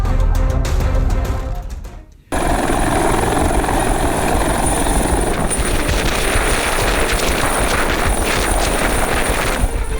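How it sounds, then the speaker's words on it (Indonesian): An Air Force combat helicopter flies close by with a loud, steady rotor chop that runs almost throughout after a brief cut near the start. "TNI mengerahkan 2 helikopter tempur milik Angkatan Udara"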